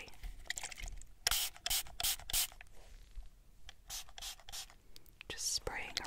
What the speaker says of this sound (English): Just spraying around your face